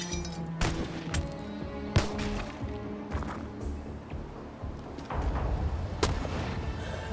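Reaction-fire gunshots in the tactical video game Xenonauts 2 ring out as several sharp, separate cracks spread irregularly across the span, with clinking and impact noise between them over a background game soundscape.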